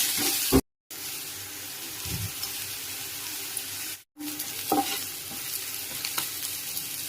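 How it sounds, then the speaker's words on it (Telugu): Onion pieces with rock salt frying in hot oil for a Konaseema-style prawn curry, a steady close sizzle with stirring scrapes, briefly cut out twice, no voices. "నూనె హీట్ అయిన తర్వాత ఎల్లిపాయ ముక్కలు వేసేసి కొంచెం కల్లుప్పు వేసేసుకొని చక్కగా దోరగా వేయించేసుకోండి"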